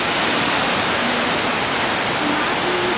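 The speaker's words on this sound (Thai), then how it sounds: "สวยมากน้ำตกลงไปลึกด้วย" A waterfall in Nikko, Japan plunges into a deep drop, producing a steady, loud, full-bodied roar of rushing water that holds constant throughout with no talk.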